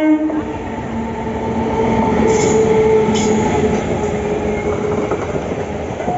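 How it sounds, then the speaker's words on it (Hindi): Dehradun-Howrah special train passing through a single-line railway station, a loud, steady rumble of rolling wagons with squealing wheels and a brief horn sounding midway. "देख भी कि पूरी की पूरी ट्रेन खाली जा रही है"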